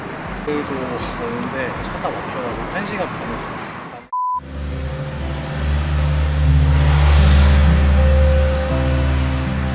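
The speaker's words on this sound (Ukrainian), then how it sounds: "Я тільки починаю знімати, приїжджають оце такі машини, які мені пакостять весь красивий вид." Someone talks on a street in Korea before a short beep, then cars drive past with a deep, swelling engine rumble that grows louder and lingers near the close.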